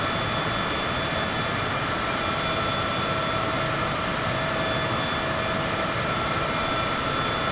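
Cessna aircraft engine in Microsoft Flight Simulator, a continuous even cabin drone with a steady whine on top, loud and unchanging throughout.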